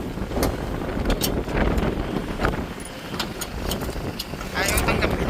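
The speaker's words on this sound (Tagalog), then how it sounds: "Lakas ng hangin din" Strong, cold wind outdoors in Canada buffets the microphone in heavy rumbling gusts, with people talking over it and traffic noise in the background.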